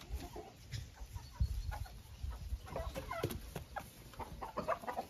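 Soft clucking from a Marans hen amid farmyard noise, a scatter of faint, irregular calls and rustles at a distance.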